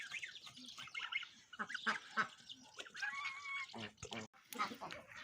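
Geese honk in short nasal calls, close by and fairly quiet, scattered across the clip with small pauses between them.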